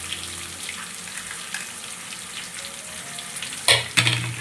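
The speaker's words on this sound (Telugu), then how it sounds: "ఉల్లిగడ్డలు అయితే గోల్డ్ కలర్ వచ్చేంత వరకు అయితే వేయించుకున్నాం" Onions frying in a pan until golden for a curry, a steady close hiss and sizzle with light stirring, ending in a few louder clatters of the utensil against the pan.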